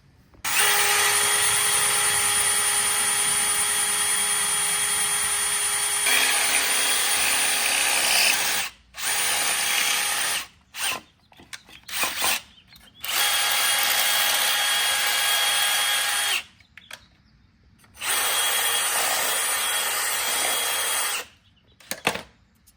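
A power drill bores a new hole through a metal mounting bracket during a transmission cooler install on a turbo Lexus GS300, running loud and close in several long steady bursts separated by short pauses and brief stop-start pulses.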